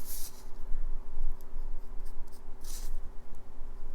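Pencil scratching and sketching across paper while inking tight lines on a Captain America comic illustration, with steady close-up rubbing strokes and a few brighter scratchy bursts, no voices.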